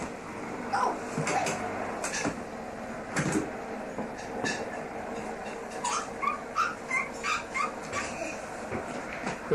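Dogs in a home whimper and let out a run of short high yips, repeated in quick bursts toward the end, mixed with door and household knocks nearby.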